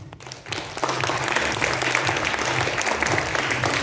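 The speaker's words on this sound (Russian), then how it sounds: "Самые громкие овации." An audience at an award ceremony for a youth IT bootcamp bursts into loud, full applause after a brief quiet moment, sustained dense clapping filling the hall.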